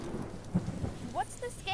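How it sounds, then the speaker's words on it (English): A thunderstorm sound effect in a game, with rain recorded from inside a car: steady patter of rain under a low rumble, plus a few brief bright tones over the short stretch. "They hadn't planned on the terrible storm that had begun to brew on their way home."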